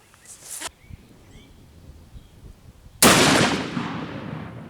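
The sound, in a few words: gunshot of a 500 Smith & Wesson Magnum Xtreme Penetrator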